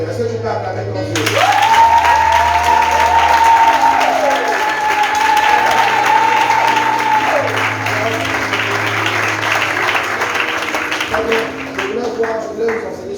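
Church congregation at a morning service applauding and cheering for God, loud sustained clapping and crowd noise filling the room with scattered shouts, while a held tone sounds through the middle.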